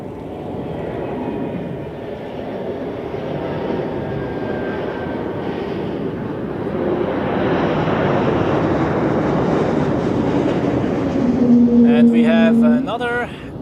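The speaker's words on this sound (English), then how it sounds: "Another ACE Embraer of Helvetic touching down right now" A Helvetic Embraer jet touches down at Zurich Airport, its broad engine roar swelling steadily louder before a sharp whine rises near the end.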